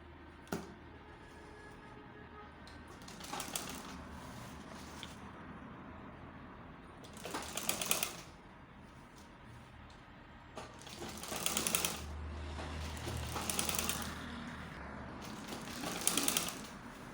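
A sewing machine stitches a top, running in several bursts of rapid mechanical chatter separated by quieter pauses, close and moderately loud with no talking.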